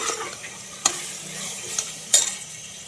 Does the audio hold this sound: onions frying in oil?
yes